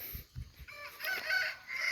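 Chickens on a rural farm, with a rooster crowing near and clear over soft clucks and scratchy farmyard noise, one drawn-out crow with a couple of rising calls.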